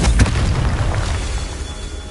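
A Confringo spell explosion in the video game Hogwarts Legacy: a sharp booming blast at the start that rumbles and decays over about two seconds, with no voices.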